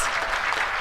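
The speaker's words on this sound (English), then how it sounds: "please stand up for recognition and a round of applause to you" A large audience at an awards ceremony applauds teachers as they stand and wave, a dense, steady roar of clapping filling the whole short stretch at close range.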